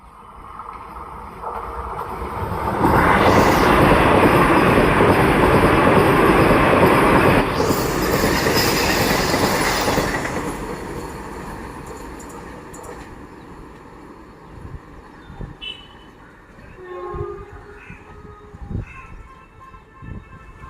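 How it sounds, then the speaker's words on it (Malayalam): An eight-car Mangalore–Thiruvananthapuram Vande Bharat train approaches Vellayil station in a swelling rush, loudest mid-pass as it sweeps by, then fades into quieter station ambience with scattered faint knocks and clanks. "Mangalore central Thiruvananthapuram central eight car വന്ദേ ഭാരതാണ് ഇതാ വന്നുകൊണ്ടിരിക്കുന്നത്"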